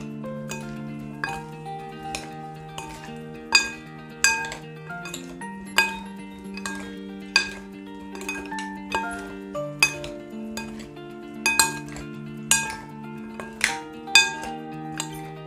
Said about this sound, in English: So we're just gonna mix this now. So just take your 2 spoons like this,